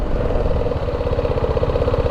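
A motorcycle engine idles near Goa while its riders look for parking, giving a loud, steady close-up rumble with a rapid, even low-pitched throb running throughout.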